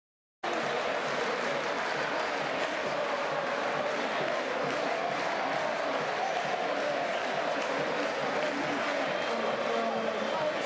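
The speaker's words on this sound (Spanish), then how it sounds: "Mientras la gente sigue aplaudiendo y vivando a nuestros jugadores" A large crowd applauding and cheering Argentine players before a Canada–Argentina game, a dense continuous roar of clapping and voices that begins abruptly and holds steady, with speech over it.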